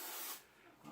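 A faint aerosol spray hisses in a short burst, with a softer airy tail trailing after it, quiet and close in an otherwise empty room.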